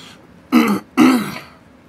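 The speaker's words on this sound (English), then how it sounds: "Sorry, I'm coughing and stuff like that." Someone nearby clears their throat twice with rough, raspy coughs, a brief pause between them.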